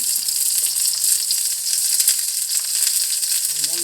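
Eggplant slices frying in an already hot pan, a steady bright sizzle throughout with a faint clink near the end, no talk.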